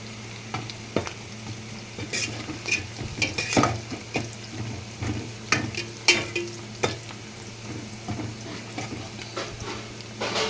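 Tomato goes into hot oil and fries with a steady sizzle, while a spoon stirs and scrapes the pan in irregular bursts. Nobody speaks.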